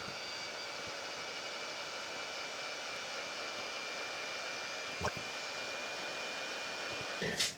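A hot air blower set to about 200°C aimed at a label on a Betso timecode box, a steady loud airy roar throughout with a couple of brief knocks near the end.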